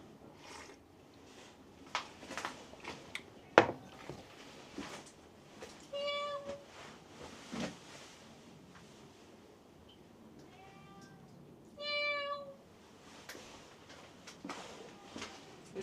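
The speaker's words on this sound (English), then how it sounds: "It's my neighbor's cat." A neighbour's cat meows in repeated, clear calls, a few spaced bursts around the middle of the clip, heard at moderate distance over quiet background noise on a rainy November evening.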